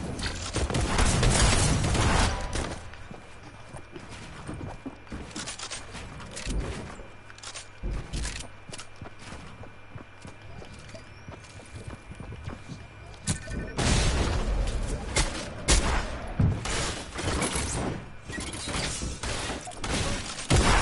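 Shotgun blasts in a video game, including a jumping shotgun attack, crack out in loud, sharp bursts at the start and again in the last few seconds, over a steady bed of game noise.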